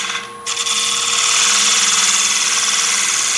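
A wood-turning gouge cuts steadily into a spinning candy dish on a lathe, giving a loud, continuous shearing whine with a brief lull near the start, then a sustained cut with no talk.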